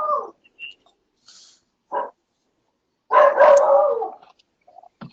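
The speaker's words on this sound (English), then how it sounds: "someone's got a dog barking" A dog barks several times in the background during an online coaching call, with a few short, muffled yelps and one longer burst of barking, fairly distant and with no talk over it.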